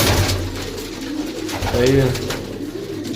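A pigeon coos softly nearby while someone speaks briefly over a noisy outdoor background.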